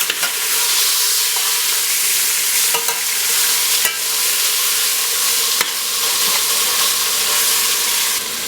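Flour-coated beef for Vietnamese bo kho browns in a pot on high heat, giving a loud, dense, continuous sizzle and spitting hiss with occasional sharp crackles and pops.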